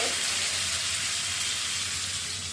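Pieces of elephant foot yam dropped into hot oil with a fenugreek seed tempering give a dense, even sizzle that hisses steadily and fades slightly toward the end, close by with no talking.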